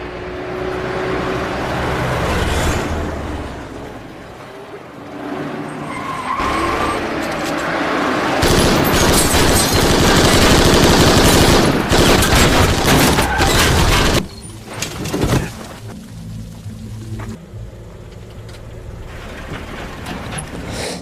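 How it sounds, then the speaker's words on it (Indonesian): Rapid machine-gun fire in a gangster film scene, with loud dense bursts of shots and booms that build to a sustained barrage before cutting off, followed by quieter rumbling. "penyelundup terkenal bernama Floyd Banner menembak mati dua agen federal di siang bolong."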